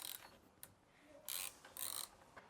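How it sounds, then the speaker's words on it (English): A wrench ratchets in quick bursts of clicks to tighten the catch can mounting nut on a Ford Ranger Raptor, close and fairly quiet, with brief pauses between the runs of clicking. "Then we just simply retighten this back down using that nut that's already provided there."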